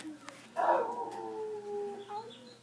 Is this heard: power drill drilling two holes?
no